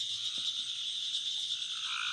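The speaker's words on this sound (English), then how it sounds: "You hear our bullfrog calling in the background." A bullfrog calls in the background outdoors, part of a steady, droning frog chorus that carries on evenly without any talking.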